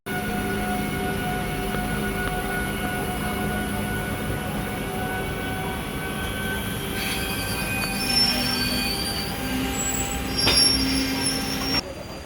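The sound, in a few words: high-power electric locomotive passing alongside the train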